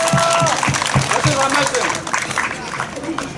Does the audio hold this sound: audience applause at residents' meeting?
yes